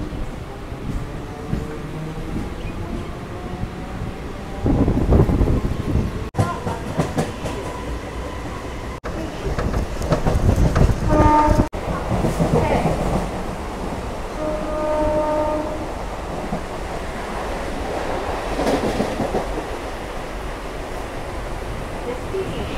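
Sealdah to Lalgola local train running on the Indian suburban line, with continuous rumbling and rattling wheels, rhythmic clickety-clack bursts and a short horn-like tone partway through, heard from close on board.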